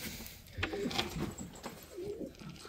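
Pigeon chicks coo softly in repeated low throaty bursts, close by, with a steady rustling background and no voices.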